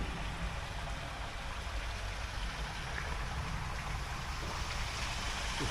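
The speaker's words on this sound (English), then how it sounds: "Just that lovely sound of water gushing through the lock there." Water gushing through a canal lock, heard from a bike path on a countryside village tour: a steady, full rushing roar that holds at an even level throughout, with no voices over it.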